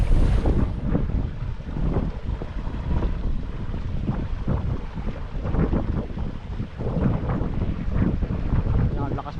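Strong wind buffets the microphone in loud, rumbling gusts, with water and a boat faintly audible beneath.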